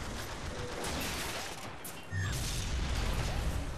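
Automated turret gunfire in Bioshock Infinite, a steady dense rattle of rapid shots filling the scene, growing louder and heavier about halfway through, with no talking.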